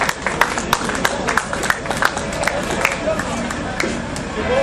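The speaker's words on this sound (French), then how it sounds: "Sous vos applaudissements, messieurs, dames" Spectators clap at the podium of a 2010 Nord-Pas-de-Calais elite cyclo-cross championship in Liévin, steady dense applause with sharp individual claps over a murmuring outdoor crowd and some voices.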